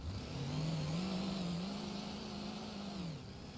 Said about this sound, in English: if you listen to the revs, it doesn't just immediately go to max revs